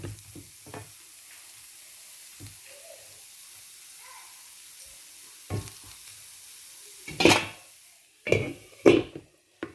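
A banana flower stir-fry hisses quietly in a pan while a spoon scrapes and stirs at irregular moments, with the stirring growing louder and more frequent toward the end.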